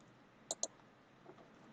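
Two quick, faint computer mouse clicks in close succession, followed by near silence in a quiet room.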